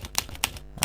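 Keys on a computer keyboard are pressed while code is written, giving four crisp, close clicks in quick succession within a moment, with no voices.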